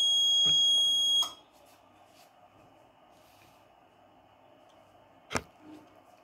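An IoT fire detector's alarm buzzer sounds loud and steady for about a second, then cuts off, leaving a quiet room hum with a couple of sharp clicks afterward.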